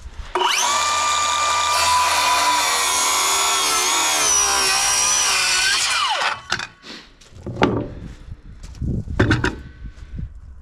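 A Bosch 18V rear-handle circular saw fitted with a DeWalt Elite blade cuts steadily through wood for about six seconds, a loud close whine. The blade then spins down, followed by a few clunks and handling knocks.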